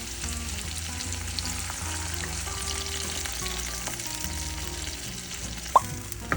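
Shrimp and garlic fry in a pan with a continuous close sizzle, some stirring and a couple of sharp pops near the end, without talking.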